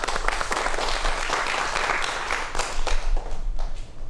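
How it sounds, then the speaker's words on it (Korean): An audience at a Korean televised science lecture on the Donguibogam breaks into applause, a moderately loud wash of clapping over a low background rumble, fading somewhat toward the end. "박수로 다시 한번 청해보도록 하겠습니다."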